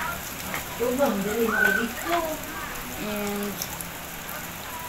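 Rain falling steadily during a family road trip at a resort, a soft continuous hiss under nearby voices talking.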